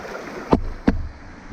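Water flows steadily at a river crossing on a mountain hike, a soft continuous rush broken by two sharp close splashes or knocks.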